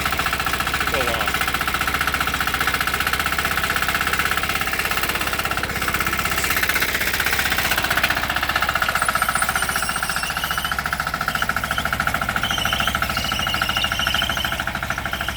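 A 186F diesel engine pulling dirt hammers steadily with a loud, rattling knock, its throttle pulsed by hand so the revs surge and fall over a continuous close-up drone, while a person talks over it.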